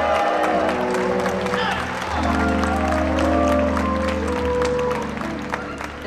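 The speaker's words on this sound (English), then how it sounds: "Cheer, clap." Southern University Founders Day convocation audience applauding and cheering, a loud sustained wash of clapping and voices filling the hall, with music or tones underneath throughout.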